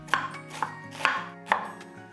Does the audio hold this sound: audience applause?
no